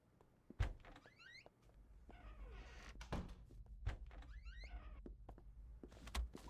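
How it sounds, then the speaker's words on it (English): A door closes with a hard thunk inside the video game Unheard, one of several sharp knocks and bumps heard over quiet ambient game sound with no talking. "And close the door."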